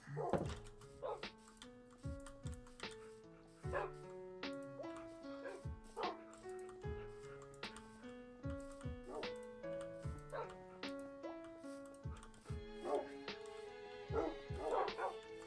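Dogs in the video game Minecraft (Java 1.21.4) give repeated short, pitched barks and yips in uneven bursts over about fifteen seconds. They sound fairly close and quiet, with faint tonal game sounds around them.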